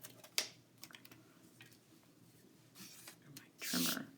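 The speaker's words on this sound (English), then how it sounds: "My trimmer needs a new blade. Okay. So we'll trim this out." A paper trimmer with a worn blade slices through paper for a 12x12 scrapbook page layout: light taps and handling sounds at a quiet level, then a short, louder broadband swish of the cut near the end.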